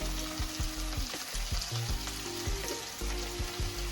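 Bell pepper, scotch bonnet and scallion sizzle steadily in a pot for an ackee and saltfish dish, a dense continuous fry with scattered low knocks and scrapes from stirring, close and fairly loud with no talking.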